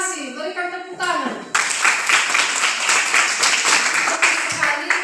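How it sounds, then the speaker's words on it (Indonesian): Students in a classroom clap together after a brief spoken prompt, a sustained burst of close, lively hand clapping lasting several seconds with faint voices underneath. "Berikan tepuk tangan."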